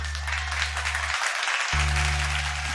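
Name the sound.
studio audience applause on TV show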